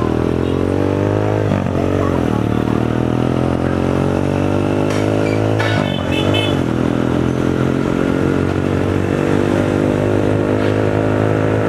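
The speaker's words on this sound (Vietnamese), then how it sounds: "Chợ đầu mối thì lúc nào cũng đông đúc và nhộn nhịp như vậy." Motorcycles pass through the busy Ben Tre wholesale market, their engines loud and close, rising and falling as they rev and go by, over a constant rumble of traffic and market clatter.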